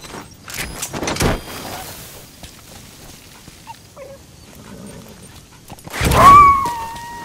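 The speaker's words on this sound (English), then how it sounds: "That wild dog, Pop." A wild dog puppy in the video game Metal Gear Solid V: The Phantom Pain whimpers and yips in thin, high whines. Soft thumps and rustles come between the whines, and the loudest whine arrives near the end.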